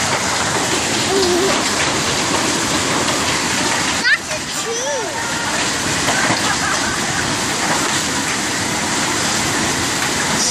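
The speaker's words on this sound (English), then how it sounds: "Still hail falling out of the sky." Hail pouring down during a storm in Sydney, a dense continuous hiss of pelting ice and splashing water, loud and steady, with people talking and exclaiming over it.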